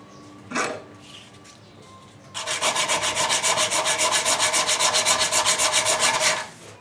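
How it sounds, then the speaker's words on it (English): Hand sanding the edges of a wooden crankbait fishing lure with a worn strip of sanding-belt sandpaper: after a brief scrape and a pause, a steady run of fast, rhythmic rasping strokes, close and fairly loud, with no talking. "So now I'm going to sand all those edges smooth."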